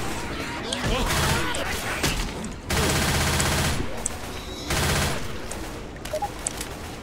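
Gunfire in the video game Left 4 Dead 2, with loud shotgun blasts and rapid bursts in several clusters, separated by brief quieter gaps during a multiplayer session.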